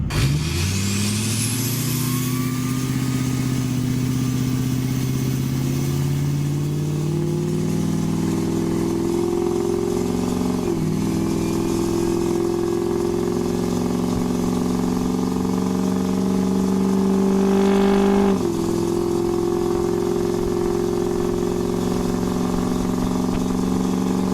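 A car fitted with an aftermarket intake drives along, its engine droning loud and close with a steady rising pitch. Two gear shifts briefly break the tone before it settles into a steady cruise, with no talking.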